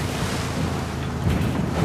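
In the game Tom Clancy's Ghost Recon: Wildlands, a vehicle drives into a river, with a steady loud wash of rushing water and engine rumble that swells slightly near the end.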